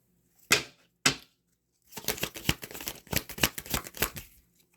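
Chakra cards being shuffled by hand: two quick, crisp riffles followed by a longer run of rapid, papery flicking, close and fairly loud with no talking.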